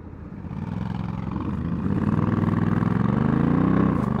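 A motorcycle ridden along a road in Germany, its engine note climbing steadily as it accelerates, loud and close throughout with no talk.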